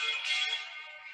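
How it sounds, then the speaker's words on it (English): A phone's ringtone sounds in a room during a podcast conversation, a brief, steady electronic tone held for about a second at moderate level, with no talk over it. "That was my phone."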